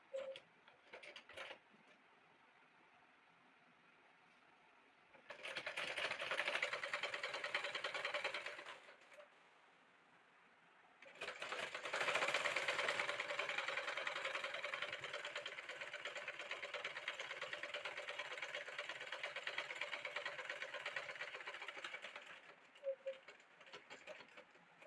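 A sewing machine stitches around a folded frock hem in two long runs, a steady whirring drone that stops and restarts, with faint handling noises between bursts and no talking.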